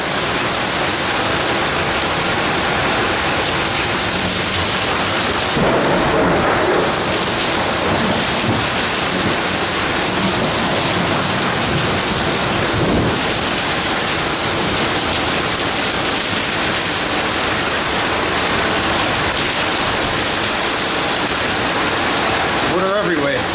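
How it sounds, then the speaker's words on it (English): Heavy rain pounds down in a big storm with a flash flood and overflowing gutters, a loud unbroken roar with a couple of dull thunder-like bursts rising out of it. "Big storm."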